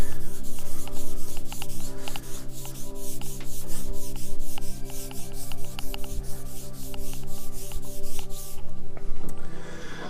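Steady, continuous rubbing of a cloth applying stain over a wooden longbow in even back-and-forth strokes, close up, with no talking.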